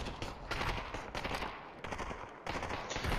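Rapid gunfire from the VR shooter Population: One, dense bursts and automatic fire crackling almost continuously at close range with no talk over it.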